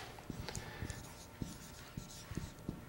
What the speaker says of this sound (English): let me write it down